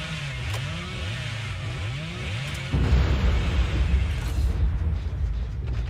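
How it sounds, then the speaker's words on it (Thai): A sudden deep boom from a totem exploding in the game Dead by Daylight Mobile bursts in midway and rolls into a sustained, heavy rumble, following a stretch of rising and falling whining tones. "ใครเสียงฟ้าร้องที่ไหนวะ อ๋อไม่ใช่ เมื่อกี้ระเบิดโทเทม"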